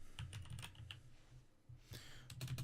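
Typing on a computer keyboard comes as irregular bursts of close, quiet key clicks with a short pause in the middle, alone with no voice.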